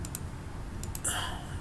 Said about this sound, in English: why am I clicking on edit?